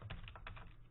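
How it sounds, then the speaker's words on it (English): Quiet, close clatter of keys on a computer keyboard, a quick run of about half a dozen light taps in an irregular rhythm with no voices. "And then you could go ahead and type on it."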